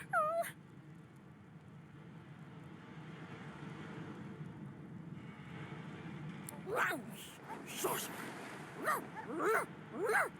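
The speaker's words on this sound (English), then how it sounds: "The dog whines and continues pawing." A dog in Divinity Original Sin 2 gives one high whine, then after a stretch of rumbling ambience lets out a run of repeated rising whimpers and yips, fairly close and moderately loud.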